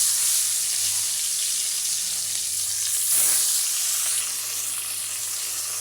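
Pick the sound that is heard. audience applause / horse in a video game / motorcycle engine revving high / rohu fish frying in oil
rohu fish frying in oil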